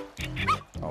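A cartoon dog gives a short, high whining whimper, a brief strained yelp rising over a muffled background.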